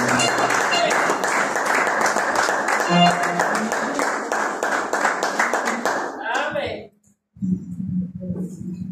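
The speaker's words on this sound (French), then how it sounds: "Lorsque la sœur Bélange va passer, applaudissons fortement." A church congregation claps loudly and steadily for about six seconds at a Sunday worship service, then the applause dies away, followed by a brief silence and soft voices.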